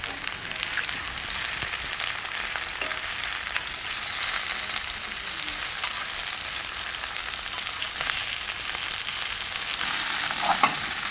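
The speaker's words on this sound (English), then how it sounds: "as soon as our oil is hot, and you should hear it sizzle a little bit when you put them in" Steady, loud sizzling of food frying in hot oil, a constant crackling hiss throughout with occasional pops.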